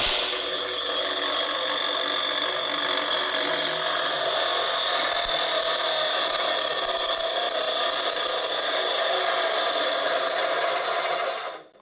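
A GTM NBG 150/F bench grinder running in a garage, a steady high-pitched motor whine with bright tonal ringing that holds constant, then cuts off abruptly as it is switched off at the end.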